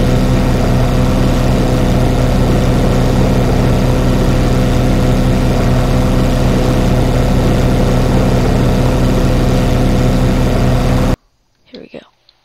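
A boat engine in the video game Ship Simulator Extremes drones loud and steady for about eleven seconds, then cuts off abruptly into near silence with a brief faint sound at the end.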